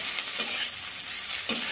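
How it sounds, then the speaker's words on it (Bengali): Spices sizzle in a pan over low flame as chilli powder, salt and turmeric are stirred into a masala dosa potato filling; a steady close hiss with two brief scrapes of the spoon, no voices. "এবারে এটাকে ভালো করে নাড়াচাড়া করে দেব।"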